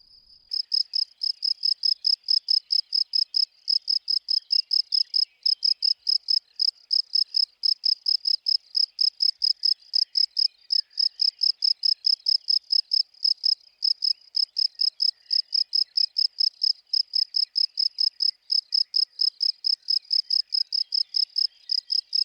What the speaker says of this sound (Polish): świerszcze ładnie cykają, więc chyba wrócę po mikrofon i je nagram